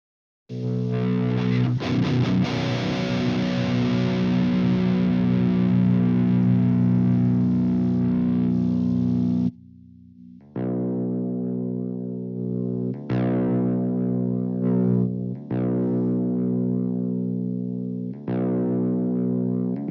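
Electric guitar through the Audiority Doomagorgon fuzz plugin into a Savage amp model: a long sustained, thick, saturated fuzz chord that rings out, then several heavily distorted chords struck and held in sequence.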